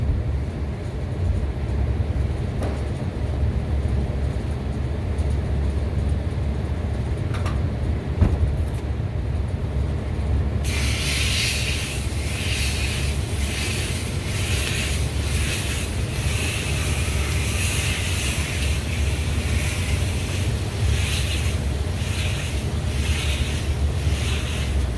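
A water hose rinses coil cleaner off the coil of a Trane Voyager AC unit. A steady broad rushing hiss runs throughout, and a brighter spray comes in partway through as the water strikes the fins. No voices are heard.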